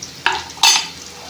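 Ingredients for chitrannam frying and being stirred in a pan, close and clear: two quick scraping stirs over a steady sizzle.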